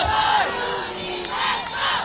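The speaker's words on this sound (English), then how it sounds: "against this noisy Wildcat crowd" A noisy home crowd at a high school football game between University and Venice roars and yells together, loud and continuous with shouts rising and falling in waves across the stands.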